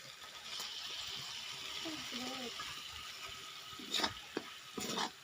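Two grated tomatoes go into a pan of frying potato curry and are stirred, a low sizzle with a few brief scraping and splattering bursts near the end, while a faint voice murmurs briefly.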